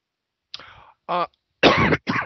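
A person coughs and clears their throat close to a microphone during a talk show, in a few sharp bursts separated by short silences.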